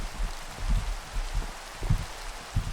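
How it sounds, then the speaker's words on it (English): Rain falling in the video game Minecraft, a steady hiss with soft patters and low thumps, continuous and moderately loud with no talk. "And it's raining."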